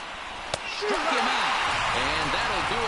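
A sparse stadium crowd rises and cheers in the baseball video game MLB The Show after a strikeout in a double-A game. A sudden sharp smack leads into a broad sustained roar with whistles over it, and a commentator talks throughout.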